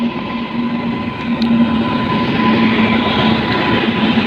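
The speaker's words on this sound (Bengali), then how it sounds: "পাশের ট্র্যাকে চলে আসছে আগরতলা শিয়ালদা কাঞ্চনজঙ্ঘা এক্সপ্রেস" Agartala–Sealdah Kanchenjunga Express rolling in on the adjacent track, heard from inside another train as a loud, continuous rumble of wheels and carriages with a steady hum.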